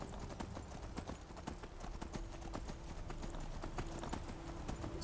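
Rapid, steady hoofbeats of a galloping horse in Skyrim on PS4, a continuous clip-clop rhythm running the whole time over a dense background.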